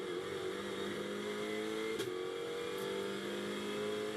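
A GT2 race car at the Misano circuit brakes hard for a corner and accelerates, its engine a steady distant drone with tonal whine and a brief sharp transient midway.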